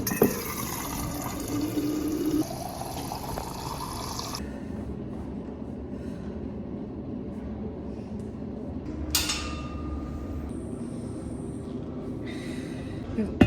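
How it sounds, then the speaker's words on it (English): Water running from a gym tap into a water bottle, a steady hiss of filling liquid that continues through the clip with a brief brighter splash near the end. "So I'm gonna go fill that up so I can keep drinking my water account."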